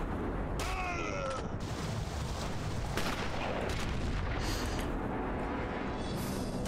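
A sniper rifle shot in the Sniper Elite video game, a loud crack early on followed by booming echoes and dense battle noise that carries on throughout.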